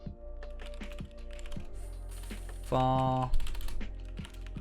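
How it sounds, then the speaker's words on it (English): Quick clicks of typing on a computer keyboard come from close by in an uneven run, while a voice speaks briefly and a steady tonal game sound plays under it. "That is the worst typing I have ever done"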